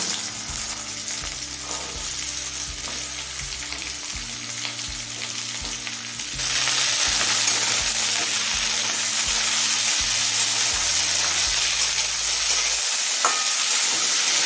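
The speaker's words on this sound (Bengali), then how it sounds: "এবার আলু আর গাজরটা সিদ্ধ হয়ে আসা পর্যন্ত ভেজে নেব" Potato and carrot fry in hot oil with nigella seeds and green chilli, a steady close sizzle under repeated stirring clatter from a utensil, the frying growing louder and brighter partway through.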